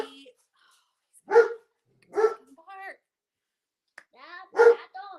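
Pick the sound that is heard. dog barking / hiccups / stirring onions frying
dog barking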